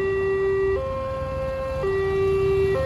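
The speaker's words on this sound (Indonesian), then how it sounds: "sirine JPL berbunyi" An electronic railway level crossing warning siren at Cisauk, Tangerang Selatan, Indonesia, alternating steadily between two pitches as the crossing gate closes, loud and continuous, with no voices.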